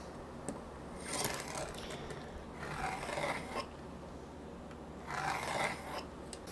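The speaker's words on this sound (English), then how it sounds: "So let's draw us a center line." A pencil draws a center line along the wood of an electric guitar neck: three separate scratchy strokes, each a second or so long, close and fairly steady over a quiet workshop background.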